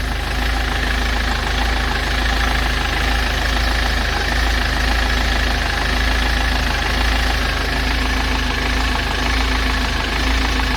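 A 2.4 litre engine in a 2010 Ford Transit mk7 idles loudly and steadily up close, its low drone carrying a slight uneven beat from a mild misfire, with no voices.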